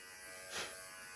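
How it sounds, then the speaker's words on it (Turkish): An electric shaver buzzes steadily while shaving, a continuous close hum that swells briefly in the middle of the short stretch. "Makine 10 numara 5 yıldız tıraş ediyor"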